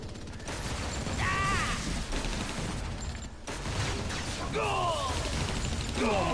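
Explosive nuke-attack blasts and gunfire-like bursts in the Marvel Heroes Omega video game on PS4, a dense, continuous barrage of booms and crackling impacts throughout, with voices talking over the din.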